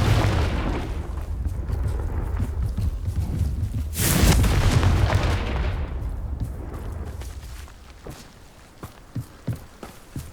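A Confringo fire spell from the Hogwarts Legacy video game explodes in a loud booming burst with a rumbling tail. Quieter footsteps and scattered small impacts follow, and there is no talking.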